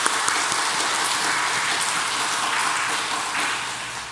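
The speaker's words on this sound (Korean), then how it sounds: "우리 감사의 박수를 감사합시다." Church congregation applause after a Sunday morning service sermon, a broad, even wash of many hands clapping that fades slightly toward the end, with no talk over it.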